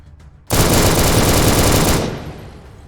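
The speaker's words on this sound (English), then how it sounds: "There's a FN Mini-Me, that extremely loud gun." A single sustained burst from the FN Mini-Me machine gun in ATOM RPG, a loud, dense roar of rapid fire lasting about a second and a half, then cutting off into a fading tail.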